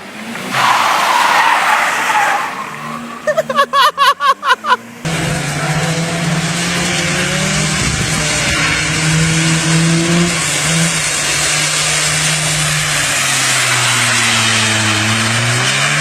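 A Nissan Cube races in the video game Need for Speed Nitro, a loud close engine roar with revving and screeching tire skids, after a brief burst of rhythmic clatter at the start.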